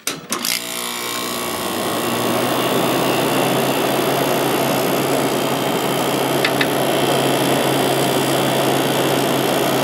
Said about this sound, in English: Compressor's very smooth on this one.